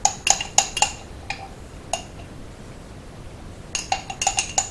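Rice pudding is stirred in a slow cooker pot with an apple added, producing bright metallic clinks and taps of a spoon against the pot in quick clusters, pausing in the middle before resuming.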